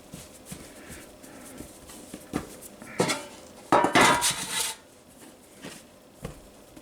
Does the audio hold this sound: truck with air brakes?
no